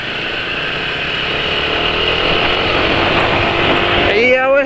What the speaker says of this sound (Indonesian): lebih halus suara mesinnya